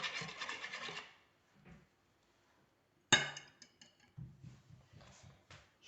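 Cake dough ingredients with lemon zest are stirred in a bowl for Algerian cigar pastries: soft scraping bursts, a pause, then a sharp clink followed by quieter rubbing and scraping strokes, all close and without talk.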